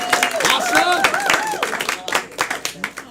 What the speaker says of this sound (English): Clap for the bravest among us, everyone.